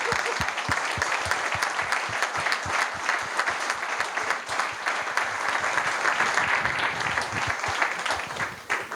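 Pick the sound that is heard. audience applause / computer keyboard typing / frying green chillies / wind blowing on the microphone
audience applause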